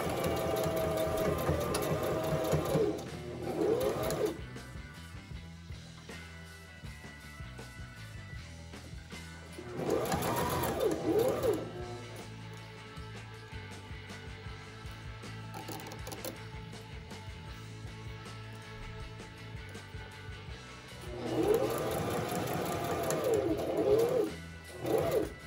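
Sewing machine sewing a straight stitch along a zipper with the presser foot, its rapid mechanical whirring running in three bursts separated by quieter pauses with softer motor hum.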